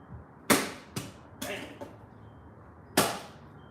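A sword slices at a target on a DIY cutting stand: several sharp, loud whooshing cracks, two big strikes with smaller swishes between them, all standing alone with no talk.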